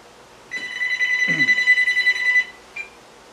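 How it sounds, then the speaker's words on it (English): A telephone rings once with a steady electronic trill lasting about two seconds, close and clear, followed by a brief short chirp. "the phone's ringing"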